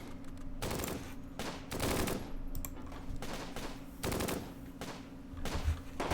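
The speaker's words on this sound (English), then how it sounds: "we're going to open fire on these guys" Close Combat Gateway to Caen gunfire in a bocage battle: repeated bursts of machine-gun fire, fairly quiet and somewhat distant, rattling in uneven volleys with short gaps between them.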